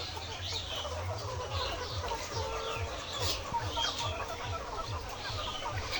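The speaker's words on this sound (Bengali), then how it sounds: "এই মুরগিটা হচ্ছে ভোবানস হোয়াইট জাতের লেয়ার মুরগি" Bovans White layer hens cluck steadily in a farm shed, many birds close together producing repeated short clucks over a constant busy flock din.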